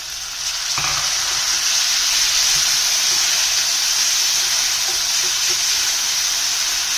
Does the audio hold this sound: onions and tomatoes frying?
yes